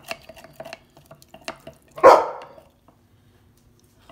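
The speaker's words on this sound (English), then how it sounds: "Oh, dogs." Dogs barking once in a loud, close burst, set amid quiet kitchen clatter and tapping from stirring a sourdough bread starter.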